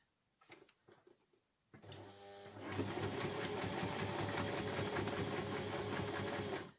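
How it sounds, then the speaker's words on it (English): A sewing machine stitches all the way around the edge of a reusable fabric snack bag, running in a steady, continuous whir that starts after a few light handling sounds and holds loud and close to the end. "So I'm just going to sew it all the way around."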